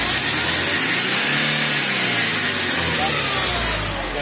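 A Kia Bongo 3 engine with low power and a misfire revs continuously, a loud rough mid-pitched drone with an uneven, sputtering texture that rises and eases slightly over a few seconds.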